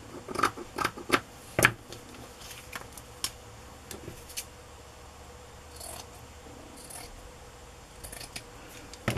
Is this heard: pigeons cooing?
no